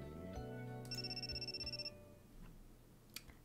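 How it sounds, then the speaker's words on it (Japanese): Phone ringtone in the Amnesia: Memories visual novel game, a short melodic electronic ring with a fluttering pulsed section, fairly quiet and followed by faint clicks, no talk. "噂をすれば早速サワちゃんから電話だ"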